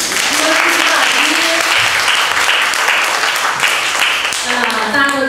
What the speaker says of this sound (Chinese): 我们再次鼓掌欢迎徐老师